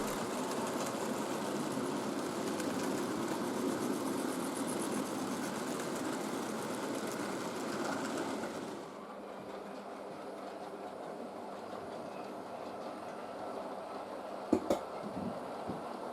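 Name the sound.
model LNER P2 steam locomotive running on a layout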